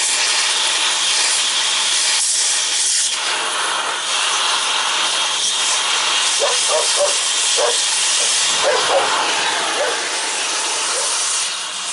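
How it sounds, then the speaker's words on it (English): An acetylene torch cuts through the hub of a 1997 big truck near the spindle, giving a steady, close, roaring hiss that holds unbroken through the whole stretch, with faint knocks toward the end. "So I'm going to use the acetylene on this because I don't want to damage the spindle."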